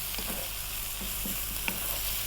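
Ground spices (coriander, chili, turmeric and cumin powder) sizzle steadily in a frying pan for vegan pumpkin rice, with a few soft stirring scrapes over a constant hiss and no voices.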